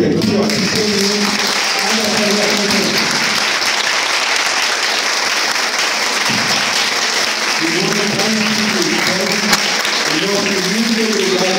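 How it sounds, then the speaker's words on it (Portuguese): A strong round of applause for a school tutoring team fills the room, loud and sustained throughout, while voices speak over the clapping in the first half and again near the end. "eu vou pedir uma salva de palmas muito forte para toda essa equipe aqui"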